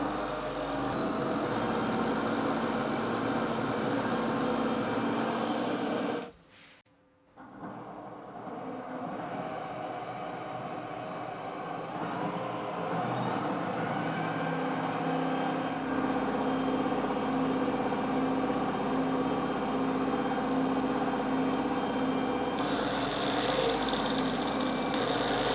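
An angle grinder spins an old blender motor rigged as a generator, giving a loud, steady whine and rumble that drops out briefly and then resumes, running on continuously.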